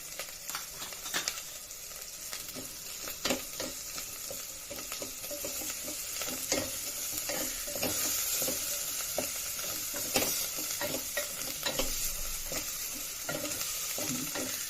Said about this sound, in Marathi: तेलाचा तवंग सुटेपर्यंत छान बारीक गॅसवर परतायचं आहे वाटण